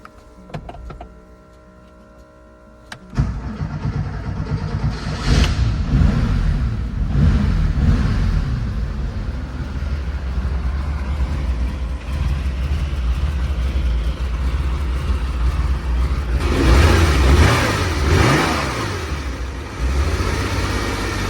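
A 1969 Porsche 911 Coupe with a five-speed gearbox, an engine project car, cranks and fires after a quiet start, then idles steadily at close range with a few sharp revs rising toward the end.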